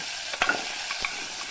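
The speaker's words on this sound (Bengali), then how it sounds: "এবারে আমি গাজরগুলোকে ভাজতে থাকছি মিডিয়াম টু হাই ফ্লেম" Grated carrots for carrot halwa fry over medium-high flame, giving a brief hissing sizzle with a couple of quick stirring scrapes, close and moderately loud.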